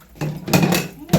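Dishes being washed during a kitchen deep clean, heard as close, noisy clattering bursts and splashy rinsing that start after a quiet moment and recur, with no talk.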